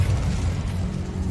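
Incendio fire spell going off in Hogwarts Legacy, a steady low rumbling whoosh of flame with mechanical clicks, sustained and fairly loud for about a second with no voices over it.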